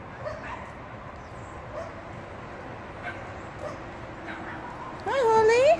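A puppy yips and whimpers, with a rising whine near the end, heard under steady background noise and someone talking nearby.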